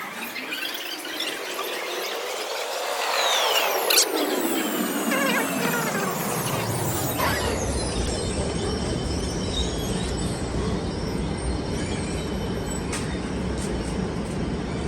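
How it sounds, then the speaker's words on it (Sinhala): A Seoul metro subway train pulls into the station with wheels squealing in long high whines over a rising rumble that swells and holds as the carriages roll past close by. "තැන්දම ට්‍රේන් එක එන්නේ."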